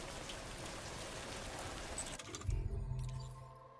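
Steady rain in the video game Death Stranding 2 On The Beach, a broad continuous hiss that fills the first half before giving way to a louder low rumble near the end.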